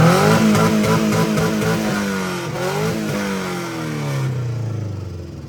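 A turbocharged DIY Subaru engine with ticking lifters revs up and down in loud, close sweeps, then settles toward idle, with a rapid ticking running through the engine note.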